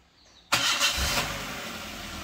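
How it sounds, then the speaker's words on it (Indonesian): A used car's engine cranks and catches at a dealer lot, a sudden loud start that settles into a steady, smooth idle with no talking. "Ini posisi udah nyala untuk mesinnya. Untuk suara terdengar halus."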